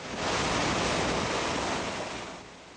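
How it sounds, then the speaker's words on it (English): Floodwater surges into a Lakeview house during Hurricane Katrina, a loud, steady rushing roar of water that eases off slightly toward the end. "Now it was filling up with 10 feet of water."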